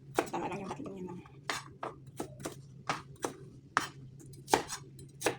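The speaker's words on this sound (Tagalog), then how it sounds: "Nag-hiwa naman tayo ng luya, bawang at saka sibuyas." Ginger, garlic and onion being chopped on a board: a string of sharp, close knife strikes at an uneven pace, with a person talking softly beneath them.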